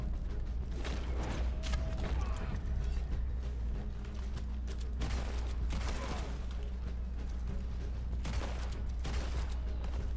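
Gunfire from a Red Dead Online gunfight, repeated bursts of shots and mechanical clatter at irregular intervals over a constant low rumble, with faint talk underneath.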